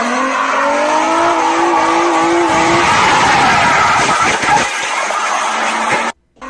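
A Nissan 350 screeches as its tires break loose and skid out of control, a loud sustained squeal with engine roar underneath that cuts off abruptly near the end.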